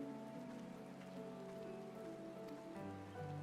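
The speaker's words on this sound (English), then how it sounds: "It's raining." Soft, steady rain falls in the Eastern Shroud forest near Gridania in the game Final Fantasy XIV, a quiet, even patter under faint ambient music tones.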